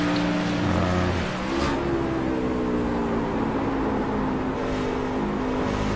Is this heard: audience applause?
no